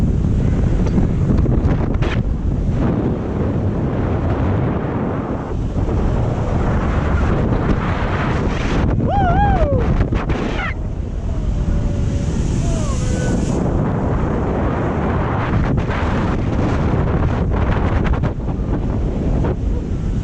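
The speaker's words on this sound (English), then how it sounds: "It's a bit windy" Strong wind buffeting the microphone high up on the 450 ft Orlando Star Flyer swing ride, a steady loud rushing gust with brief voices calling out partway through.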